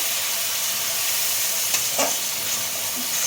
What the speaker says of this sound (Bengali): এরপরে আমি দিচ্ছি সরষে বাটা সরষে বাটা দিয়ে বেশিক্ষণ আমি নাড়াবো না